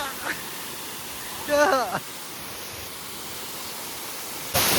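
Rushing water at Sanam Waterfall near Ranchi, Jharkhand, makes a steady, close broadband roar, briefly joined by a voice and ending with a louder surge.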